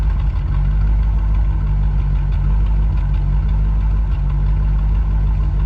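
A 1978 Corvette with 10,400 miles idles steadily and loudly for the whole stretch, a constant low engine rumble with no break or voice.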